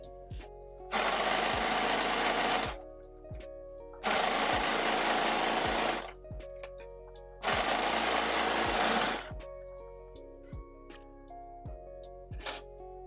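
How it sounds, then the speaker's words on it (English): Sewing machine stitching down the side edge of a two-layer dress, running in three loud, steady bursts of a few seconds each, separated by short quiet pauses with faint clicks. "So I'm just going to start by sewing down this side edge."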